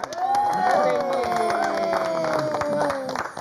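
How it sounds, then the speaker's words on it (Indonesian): Applause from an audience at an Indonesian comedy talk segment, a dense wash of clapping and crowd noise with tonal cheering or whooping voices rising over it, steady and fairly loud throughout. "Tepuk tangan dulu dong ini."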